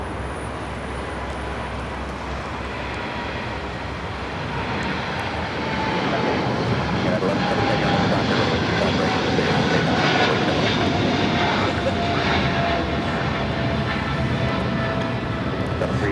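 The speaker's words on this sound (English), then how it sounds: "That is British Airways 280 taking off to London Heathrow on the 777-300ER" A British Airways Boeing 777-300ER departs LAX for London Heathrow, its engines building from a rumble into a loud, sustained roar that holds close and strong to the end.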